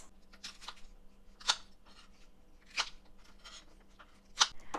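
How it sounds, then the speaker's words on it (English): Vegetables being cut in half with a knife on a cutting board while making a salad, three sharp chopping knocks spaced about 1.3 seconds apart over faint slicing and rustling, close up with no talking. "we're just gonna cut off the ends, discard these, and then you'll want to cut them in half"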